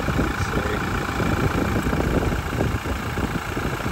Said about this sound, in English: As you can hear, I do have the car running.